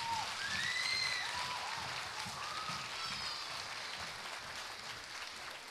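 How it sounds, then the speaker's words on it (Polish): An audience at a dance show in Płońsk gives a dancing group sustained applause, a soft, even patter of many hands clapping at a distance, with a few faint whistles rising above it. "także myślę, że należą im się ogromne brawa."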